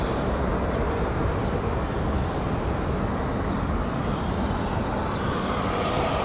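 An airliner on a Delta flight to Chicago O'Hare takes off from Raleigh-Durham International, its jet engines a steady, loud broadband roar that holds without letup for the whole stretch, with no voices.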